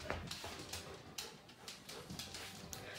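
Several dogs whimpering and yipping in a house, with repeated short whines and sharp cries over a steady background hiss.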